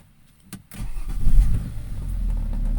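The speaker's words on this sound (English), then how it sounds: "So let's start the engine." A 2011 BMW X5 engine starting: a brief click and crank, then the engine catches and settles into a steady, moderately loud idle close by, with no talking.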